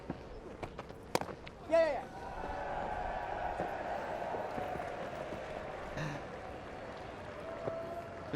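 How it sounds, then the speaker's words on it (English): A crowd at a West Indies v England Test cricket match lets out a brief cheer, followed by a sustained murmur across the ground, with a bat-and-ball knock just before. "First runs for a considerable while for Brathwaite, greeted with a cheer"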